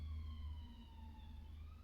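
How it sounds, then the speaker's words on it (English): An emergency vehicle siren passes outside, a faint wailing tone sliding slowly downward over a low engine-like hum, heard at a distance with no talk over it. "I'm just going to let that siren go past"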